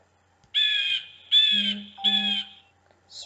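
A jay gives three harsh, raspy calls in close succession, loud and near against a quiet background, with a fainter fourth call starting at the very end.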